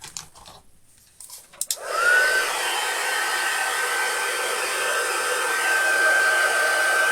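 A hair dryer blows steadily at close range to dry a wooden craft piece, a witch insert for an interchangeable window, starting after a few small handling clicks and then running loud and continuous without pause.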